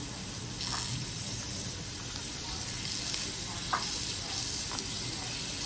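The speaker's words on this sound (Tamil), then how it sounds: "ஆனியன் நல்லா வதங்கட்டும்." Finely chopped onion sizzles and fries in hot oil in a pan for a paneer frankie roll, a steady crackling hiss with a few small clinks of stirring, close and continuous with no talk.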